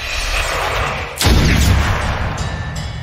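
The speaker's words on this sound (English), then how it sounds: "Explosion!" A loud explosion in the turn-based tactical video game Othercide erupts with a sudden broadband blast about a third of the way in, then a rumbling, booming tail that gradually fades over a steady game ambience.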